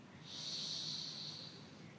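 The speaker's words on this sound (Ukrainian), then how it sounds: "Зробіть глибокий вдих." A deep, slow inhale through the nose during a yoga breathing exercise, a soft close airy hiss that swells and fades over about a second and a half.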